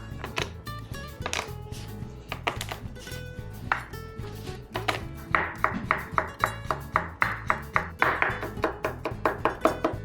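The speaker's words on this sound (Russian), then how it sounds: "Измельчу чеснок." A knife repeatedly strikes a cutting board while garlic is minced for a Korean-style eggplant salad, producing a steady run of sharp, close taps that quicken and grow louder toward the end, with some clattering of dishes.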